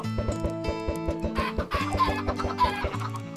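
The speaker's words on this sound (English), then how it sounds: "I'm gonna just chuck a few more eggs in here, see if we can get a few more chickens" Chickens cluck repeatedly in the Minecraft video game, a steady run of short, close clucks layered over game music with no talk.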